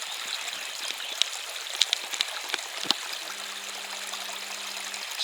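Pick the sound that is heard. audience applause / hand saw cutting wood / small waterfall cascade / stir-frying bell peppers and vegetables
small waterfall cascade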